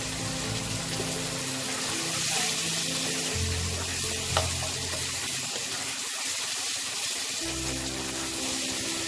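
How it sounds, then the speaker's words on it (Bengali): Masala with salt and turmeric sautés in oil in a pan for a Bengali katla fish curry, producing a steady, loud, close hiss and sizzle that runs throughout, with faint scraping stirs beneath it. "যতক্ষণ না তেল ছাড়বে আমি এটাকে কষাবো"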